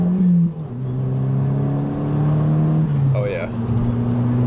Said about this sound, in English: But I think this car really shines with all the turbo noises.